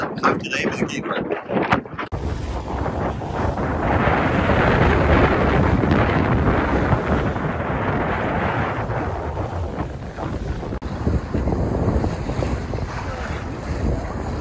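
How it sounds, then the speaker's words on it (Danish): Strong wind while sailing a boat in stormy weather off the Peloponnese in Greece, a loud continuous roar of gusts buffeting the microphone over rushing waves, with speech mixed in. "Der var simpelthen meget vind"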